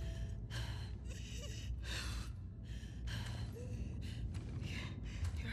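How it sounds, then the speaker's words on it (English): Laboured, ragged breathing of a wounded character in The Last of Us Part II, a string of gasps and heavy exhales repeating at a steady close rhythm over a low rumbling background. "Your breathing's worse."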